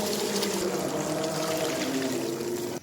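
Water is poured steadily into a pot of beef yakhni stock for pulao, a close, continuous splashing stream that stops abruptly at the end.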